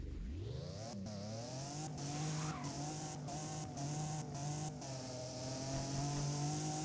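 An Alfa Romeo GTAM accelerating hard in the Roblox game Driving Empire, a loud, steady engine drone rising in pitch through repeated gear shifts, heard alone and close.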